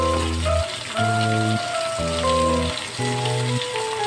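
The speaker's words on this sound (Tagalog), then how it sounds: "medyo tumatalsik-talsik pa ang mantika" Dried milkfish (daing na bangus) frying in hot oil, with a steady spattering sizzle running throughout beneath a louder musical tune.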